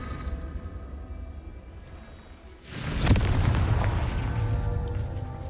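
A booming fire-spell blast from the Hogwarts Legacy video game cuts in abruptly after a quiet stretch, followed by a sustained roaring rumble that fades slowly.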